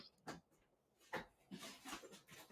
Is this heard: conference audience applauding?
no